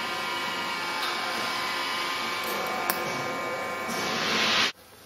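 Welding torch working on the bottom of a metal HHO generator cell container, a steady loud hiss with faint crackle that runs for several seconds, then cuts off abruptly near the end.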